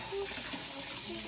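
Tap water runs steadily into a kitchen sink while dishes are rinsed, a soft continuous splashing at low level with no voices.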